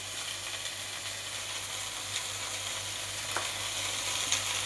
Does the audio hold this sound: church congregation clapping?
no